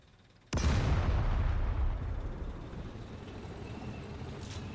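A tank cannon fires at a building in the Forefront VR game, one sudden heavy boom followed by a long rumbling decay that fades slowly.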